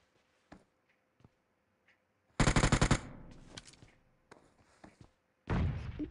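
Video game gunfire arrives in two loud, close bursts of rapid shots, separated by scattered softer thumps and clicks.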